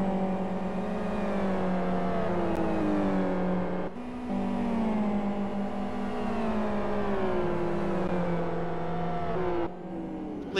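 Super GT race cars drive on the track, engines whining loudly and closely with rising and falling pitch through gear changes, the sound cutting abruptly twice as the camera view switches.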